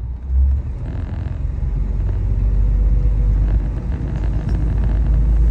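Chrysler car with Fluid Drive transmission pulling away from a stop in third gear, a low, steady engine rumble building gently and sustained throughout, close by with no talking.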